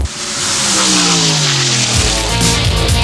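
A Pro Modified drag racing car's engine revs hard and climbs in pitch, a loud, close roar that holds and then shifts to a deeper blast without a break.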